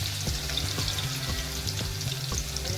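Crushed garlic cloves drop into hot oil in a pan, making a steady bright sizzle with a few soft knocks and stirring sounds under it, close and continuous with no talking.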